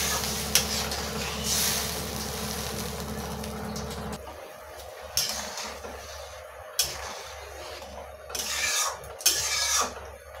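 Water poured into a hot pan of tomato and mustard-paste fish curry gives a steady rushing hiss for several seconds, then settles into quieter bubbling with a few scattered clinks.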